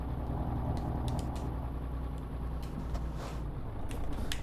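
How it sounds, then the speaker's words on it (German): Truck engine in Euro Truck Simulator 2, a steady low droning hum running continuously at moderate level with faint mechanical rattles over it and no talking. "Ne, das war der Motor."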